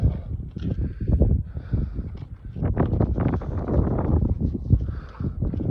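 Steady wind buffeting a nearby microphone at Two Rocks, Western Australia, a continuous low rumble that swells and gusts without pause.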